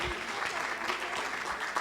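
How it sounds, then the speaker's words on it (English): Brief burst of audience applause at a 2019 JFK assassination conference, dense steady clapping from a crowd, fairly faint and lasting under two seconds. "If you would please give them a round of applause."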